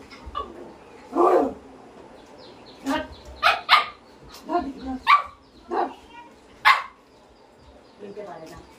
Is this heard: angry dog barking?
yes